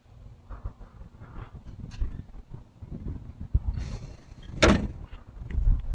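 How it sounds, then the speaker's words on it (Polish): The rear-hinged back door of a Skoda Moskwicz hot rod opens with a rattling mechanical shuffle and a sharp metallic latch clack near the end, recorded close up. "Tylne drzwi też odwrotnie otwieramy."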